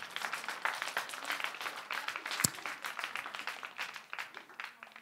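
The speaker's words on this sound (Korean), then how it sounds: "박수 한번 하겠습니다." Steady applause from a church congregation, moderately loud and continuous for several seconds, with one sharp clap standing out midway.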